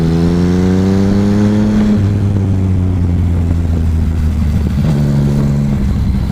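Chevrolet Camaro engine droning steadily and loud nearby, its pitch rising and falling with a gear change partway through, with no voices.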